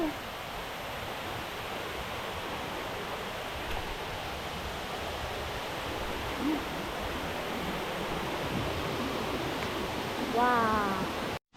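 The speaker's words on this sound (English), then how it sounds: "We finished watching the waterfall" A large waterfall in Cambodia roars as a steady, broad rush of falling water, with a faint voice briefly audible near the end.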